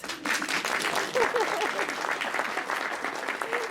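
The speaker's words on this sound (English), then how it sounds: "If you believe, clap your hands" A theatre audience claps their hands together in a sustained, dense burst of applause, steady and fairly close throughout, with a few scattered voices underneath.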